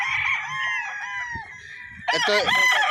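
A claret gamefowl stag with white legs crows loudly and close on a farm, one long drawn-out cock-a-doodle-doo followed by a second harsher burst of crowing.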